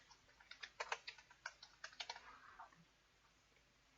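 Quick bursts of typing on a computer keyboard, close and fairly soft, clustered over the first three seconds before falling quiet, with one sharp click at the very end.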